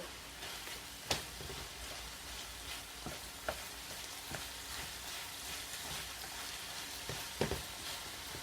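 Mushrooms and chicken breast sizzle steadily in a pan at low volume, with a few sharp clicks and scrapes of stirring scattered through, no talking.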